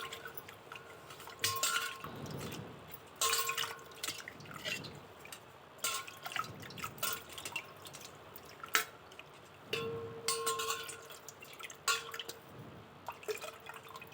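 A copper plate is rinsed in water, with close intermittent splashes, drips and light trickling in separate bursts, plus an occasional faint clink of metal, between quieter gaps.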